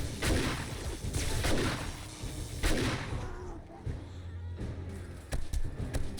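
Repeated shotgun blasts in the game 7 Days to Die during a horde night, loud booming shots in quick succession with heavy low-end impacts and crashes between them, with no talk over the gunfire.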